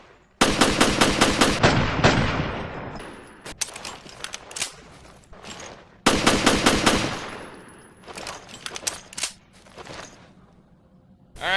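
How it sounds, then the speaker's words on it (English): Rapid full-auto bursts from a Glock 18 handgun in Resident Evil: Revelations, two long loud strings of fast shots with shorter bursts and single pops between, crisp and close with brief quiet gaps. "let's test the Glock 18 out"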